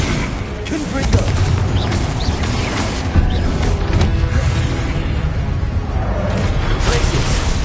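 Confringo fire spell bursts in a Harry Potter video game: dense booming blasts and crackling impacts over a rumbling low end, with a voice speaking intermittently throughout.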